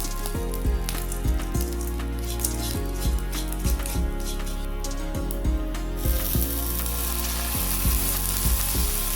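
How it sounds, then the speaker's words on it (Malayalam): Jaggery melts in a pan with a few drops of water, giving a soft continuous sizzle broken by regular clicking taps of a utensil against the pan, with no one speaking. "അപ്പോൾ ഒരു പാത്രം വെച്ച് കൊടുത്തിട്ടുണ്ടേ അതിൽ ഇതാ നമ്മൾ ശർക്കര ഇട്ട് കൊടുക്കുന്നുണ്ട്"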